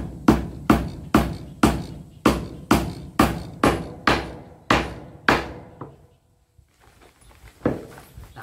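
A hammer drives nails into hard wood while building a hut, about a dozen loud, sharp, evenly spaced blows close by, then quiet with faint knocking.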